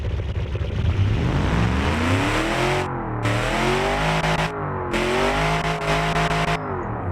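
A V8 offroader engine in BeamNG revs loudly and up close, the pitch rising and falling through several climbs, with brief gaps where it cuts out between pulls and no voices.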